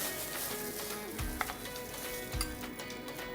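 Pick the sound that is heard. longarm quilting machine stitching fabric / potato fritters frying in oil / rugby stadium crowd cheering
potato fritters frying in oil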